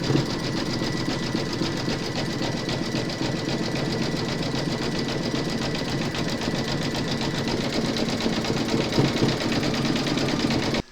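An embroidery sewing machine stitches a satin border round on a coffee placemat, a fast, steady mechanical chatter with a rhythmic knocking pulse, close and continuous until it stops abruptly at the end.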